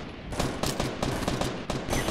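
Gunfire in a Fortnite Battle Royale match: several loud, close shots in an uneven burst, with sharp broadband bangs spaced across two seconds and no voices.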